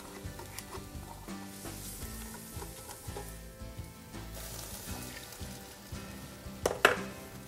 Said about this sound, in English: I'm going to add in my rice flour roux that I made last night. Now this is the one with the oil.